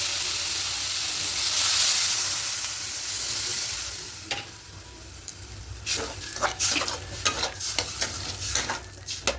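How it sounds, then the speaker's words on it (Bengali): A pan of potato filling for samosas hisses loudly as a little water goes in, the burst of steam fading into quieter sizzling and then a run of sharp spoon scrapes and stirring knocks. "এটা একটু জল দিয়ে দেবো"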